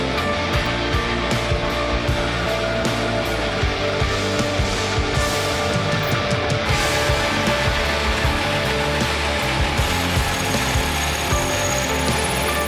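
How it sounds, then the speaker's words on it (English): A power tool bores a hole down the center of a wooden knife handle to take the tang, making a steady, loud grinding whir with gritty fluctuations that continue throughout. "I got the hole for the tang bored down the center of the handle."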